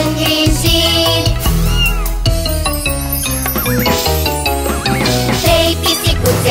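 In a Romanian children's song, a sung voice imitates a cat's meows in a quick repeated run, loud and bright over a busy, jingly music backing.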